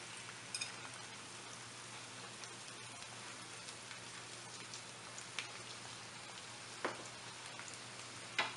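Finely chopped medium onions fry in half a cup of cooking oil in a pan over medium heat, giving a steady, soft sizzling hiss with scattered small pops and crackles.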